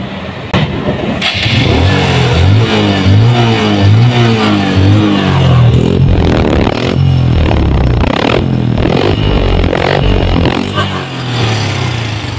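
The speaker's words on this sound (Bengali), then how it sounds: "বাইকের সাউন্ডটা আপনাদেরকে একটু শোনাই ইঞ্জিনের সাউন্ডটা" A Hero Ignitor 125 motorcycle engine runs in neutral, loud and close, with a steady throbbing idle, a few blips of revving and some rattling, and no talk.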